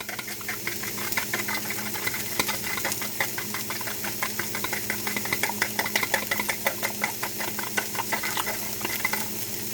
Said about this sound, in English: the sound of this egg whisking